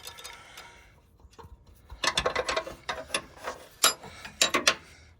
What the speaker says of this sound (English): That was the little spring catch releasing.